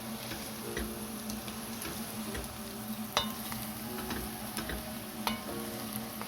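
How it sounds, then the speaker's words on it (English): Paneer and pea curry sizzles steadily in a hot pan while a spoon stirs and scrapes, with a couple of sharp taps against the metal. "Give that a stir."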